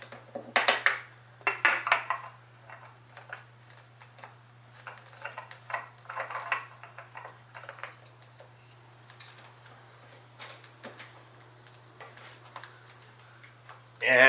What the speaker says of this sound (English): install our new oil filter here